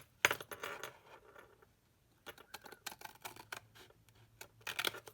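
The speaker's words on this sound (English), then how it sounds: "I'm going to use my scissors and I'm just going to" Scissors nip and cut through card while making an 80th birthday exploding card, giving a few quiet, crisp snips and rustles close by, separated by short pauses.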